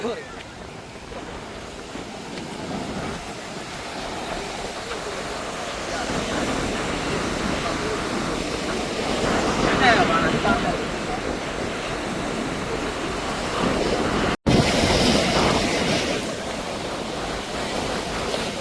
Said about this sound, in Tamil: பாருங்க இந்த கடல் சத்தம்